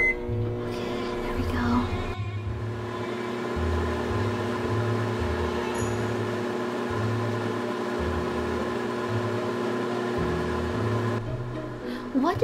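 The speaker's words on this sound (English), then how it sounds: "I have to use the microwave now. It's gonna make a lot of noise though," A microwave runs in a Roblox game, a steady electric hum with a low pulsing drone that holds for most of the stretch under background music, then stops near the end.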